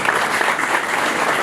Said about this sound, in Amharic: ለራሳችሁ አጨብጭቡ።